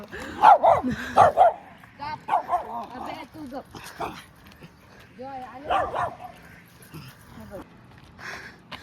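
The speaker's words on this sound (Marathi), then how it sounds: "कुत्री आहेत." Dogs bark in short bursts, several loud yaps near the start and more later, mixed with people talking in the background.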